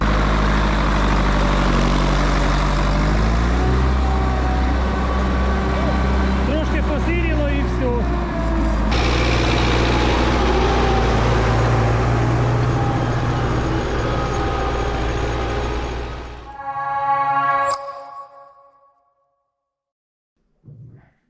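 MTZ-892 and MTZ-80 tractors idle and rumble steadily as they prepare to plough a field, a loud constant low drone that shifts partway through, then revs briefly and cuts off near the end.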